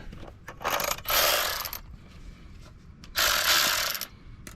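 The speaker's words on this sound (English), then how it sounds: "I'm using my new Porter Cable 20 volt powered battery ratchet" Porter Cable 20 volt cordless battery ratchet spinning out the drain plug of an Infiniti Q50, two loud bursts of whirring motor and clicking separated by a quieter pause.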